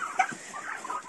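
Turkey poults chirp in their pen, with several thin, high peeps overlapping in quick, irregular bursts close by and no voices.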